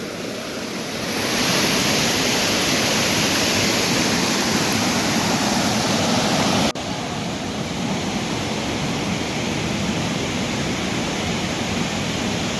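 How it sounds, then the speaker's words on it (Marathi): A river in monsoon flood rushes past a village in Dapoli taluka, giving a loud, continuous roar of churning water that swells after the first second and holds steady to the end. "पाण्याला फोर्स बघा किती आहे खूपच पाणी आहे नदीला"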